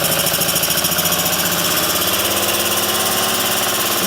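BMW R90S motorcycle engine, a barn find, running close and loud as the throttle is worked, a steady pulsing boxer-twin throb with a rough mechanical rattle throughout.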